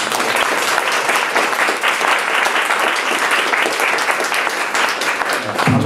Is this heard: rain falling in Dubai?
no